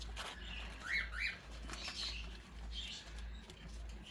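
Pet birds in a flock squabble with a few sharp chirps and flapping wings against a low steady hum in a kitchen.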